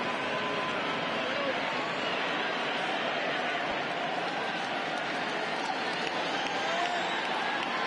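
A baseball stadium crowd at a Braves versus Padres MLB game gives off a dense, steady roar of cheering that stays loud and continuous, with a commentator talking over it.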